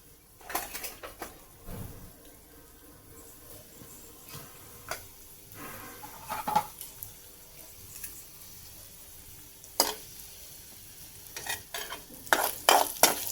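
Chana dal fries in a pan for a mint and coriander chutney, giving a faint, low sizzle punctuated by irregular scraping and clinking stir strokes that grow busier toward the end.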